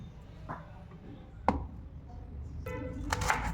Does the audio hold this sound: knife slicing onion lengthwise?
yes